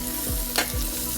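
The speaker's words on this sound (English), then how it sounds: "Now you hear that? It should be a little more of a sizzle." Vegetables sizzle steadily in a little olive oil in a hot frying pan, a soft continuous hiss that swells briefly in the middle, with faint low clatters of stirring.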